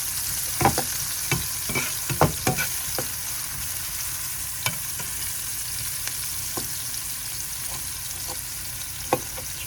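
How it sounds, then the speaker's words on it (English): Chopped onions sizzling in a pan for salsa verde, a constant hiss broken by scattered clicks and scrapes as a utensil stirs them. "These onions are sounding good. a little stir."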